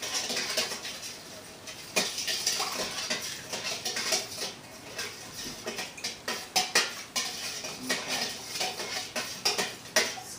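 A spoon stirs a citric acid solution in a bowl, making irregular light clinks and scrapes against the dish at moderate volume.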